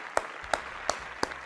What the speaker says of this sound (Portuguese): Volta pra mim, Katoshi, todo mundo, uma salva de palmas.